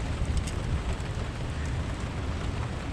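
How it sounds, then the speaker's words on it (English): Heavy rain pours down steadily in a dense, even hiss, loud and close throughout, with no voices. "In case you can't tell, it's raining quite a bit."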